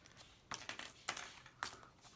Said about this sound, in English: So I'm going to go ahead and take off all these paper clips.